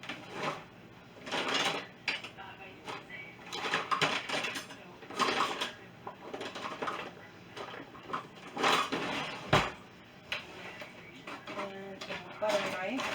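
Utensils and drawers clatter in a home kitchen while someone hunts for a spatula and butter knife, with scattered knocks and rattles running under steady talk.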